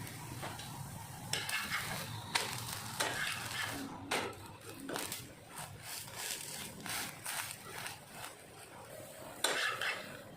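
A potato-stuffed porota fries uncovered in a pan over higher heat, with a soft steady sizzle and repeated close scraping and clinking of a spatula against the pan.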